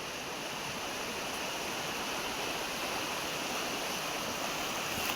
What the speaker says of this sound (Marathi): हा आवाज पाण्याचा आहे. समोर ना नदी वाहते